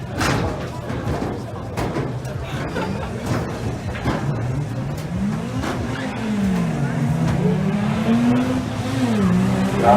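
A drag racing car engine revs hard and accelerates loudly, its pitch climbing and falling, with a voice talking over the roar.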